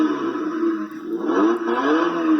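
Small RC Jeep powering up after its charger is unplugged, a steady electric whine that wavers and rises in pitch, close and fairly loud.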